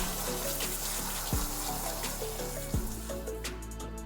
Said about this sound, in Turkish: 20'şer saniye her yerine su gittiğini hissettiğimizde yeteri kadar su tutmuşuz demektir.